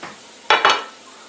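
Very hot oil frying for Peruvian arroz chaufa, with two quick, sharp bursts of sizzling close together, loud and close, then fading back to a quiet hiss.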